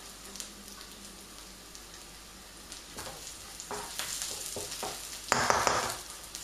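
Chicken fries in beer and oil in a pan for a satay stir fry, a close, steady crackling sizzle that grows busier midway, with a few stirring scrapes and a loud burst of spitting near the end.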